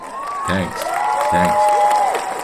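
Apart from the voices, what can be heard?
applause sound effect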